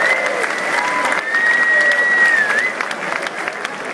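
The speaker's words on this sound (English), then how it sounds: "If you could, give a round of applause" Concert audience applauding at Manchester Academy 1 before a band's set, a dense steady wash of clapping and crowd noise with a whistle rising over it, fairly loud and continuous.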